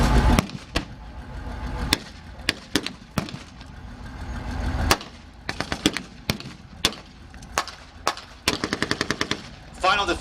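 Bursts of light machine gun fire from a Bren at a WWII reenactment, short rapid volleys and single cracks repeating across the field, fairly close and loud, with faint voices in the background.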